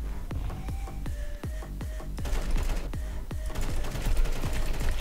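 A rapid series of sharp gunshots in Counter-Strike on the Dust2 map cracks out, about a dozen in quick succession, over a steady background rumble of game noise.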